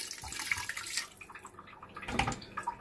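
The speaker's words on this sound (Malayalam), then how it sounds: "ഇതിലേക്ക് നമുക്ക് ആവശ്യമുള്ള വെള്ളം ഒഴിച്ചിട്ട് നമുക്ക് ഇതാക്കി എടുക്കാം." Water poured into beef curry in a pressure cooker, a short splashing, gurgling pour that rises again toward the end, close and moderately loud with no talking.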